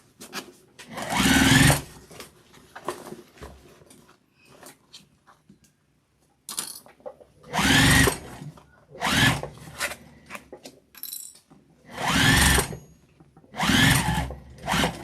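Sewing machine stitching a tote bag, running in several close bursts of rapid mechanical whirring separated by quiet pauses with faint handling sounds.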